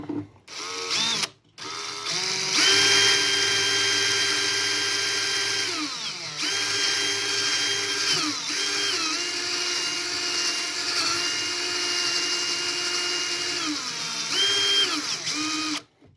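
A power drill bores holes through a plastic NEMA enclosure, whining loudly and steadily in long sustained runs with brief pauses and pitch drops between bursts, no talking.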